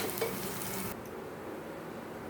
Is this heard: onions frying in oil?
yes